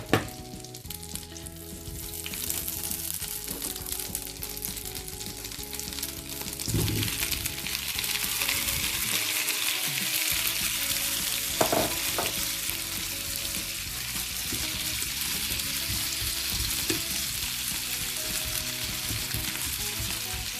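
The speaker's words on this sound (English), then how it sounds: "I add the powdered sugar in apples, so yeah, just let's fry it." Apples sprinkled with powdered sugar fry over moderate heat in a pan, giving a dense, continuous sizzle that holds steady for a long stretch, close up, with a few brief clatters and no voices.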